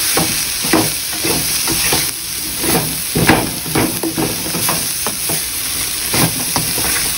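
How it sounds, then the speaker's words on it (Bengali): Fried broccoli, carrot and potato are stirred in a sizzling pan, with close, loud scraping and clattering strokes over a steady frying hiss. "আমার ফ্রাই করে রাখা ব্রকলি, ক্যারট, পটেটো। এখন ভালো করে মিক্স করবো।"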